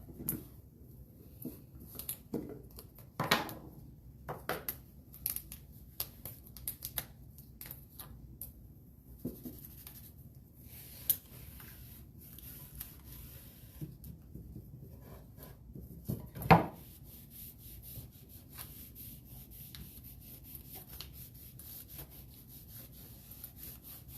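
A rag rubs stain onto wooden craft pieces in short, repeated, quiet swipes and scuffs with soft pauses between strokes.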